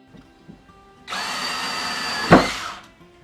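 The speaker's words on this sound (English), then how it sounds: "Screw down these braces here, put my 2x brace on." A power drill drives a screw through a brace into particle board, one sustained whirring burst of about a second and a half that ends with a sharp thunk, close and loud after a quiet start.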